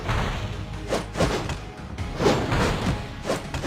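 A Fire Wave spell in the Lightseekers video game bursts out in dense, rumbling whooshes and thuds that swell and fade repeatedly, loud and continuous with no talking.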